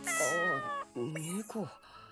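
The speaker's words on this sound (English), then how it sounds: "With its head tilting slightly to the side, it let out an adorable meow." A well-groomed cat in the Corpse Party game lets out several short, high meows in quick succession, close and distinct against near silence.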